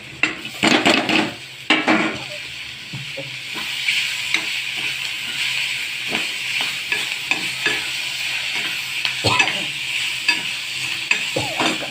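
Chilli powder and tomatoes fry in a pan while being stirred, a steady close sizzle overlaid with repeated scraping and clinking of a spoon on the metal, with no speech.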